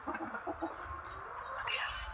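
Native chickens cluck in a small backyard flock, soft repeated clucks and short calls close by, rather quiet with no talking.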